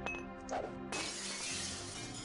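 Glass breaking in the Deus Ex video game at an airfield, a sudden loud shatter followed by a bright, sustained spray of tinkling shards, heard alone without talking.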